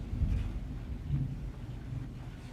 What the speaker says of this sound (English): It is thundering outside, if you all heard that noise.